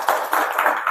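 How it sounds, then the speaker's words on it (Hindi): An audience claps in a quick, brief burst of a few rhythmic hand claps that sound fairly close. "बताओ ताली इस बात को"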